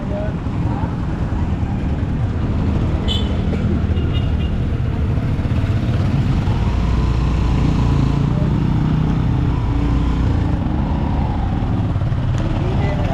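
A motorcycle with a failed hub brake rides slowly home from fishing, its engine a steady close drone with continuous road and wind noise throughout.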